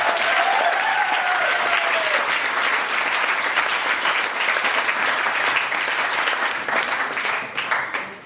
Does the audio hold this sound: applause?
yes